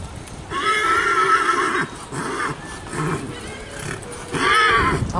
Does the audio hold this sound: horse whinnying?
yes